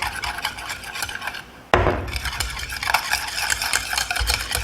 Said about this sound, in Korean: 자, 이렇게 섞어서 비네그레트 만들어주시면 됩니다.